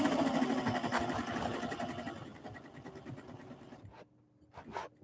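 A sewing machine stitches a decorative pillowcase cover with a fast, steady mechanical whir, fairly quiet and close. The sound fades slightly and breaks off near the end, followed by a couple of faint clicks.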